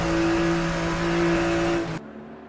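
A race car engine holds a steady high-pitched drone at speed on the Road America track in a sim-racing series, loud and sustained, then cuts off abruptly to near silence.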